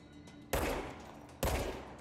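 Gunfire from the video game Control, two sharp heavy shots about a second apart, each with a booming decay, heard alone with no talking.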